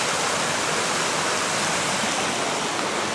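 A Vermont river in Bridgewater, swollen after the Hurricane Irene flood, rushes past in a steady, loud, broadband roar of churning water with no pauses and no voices.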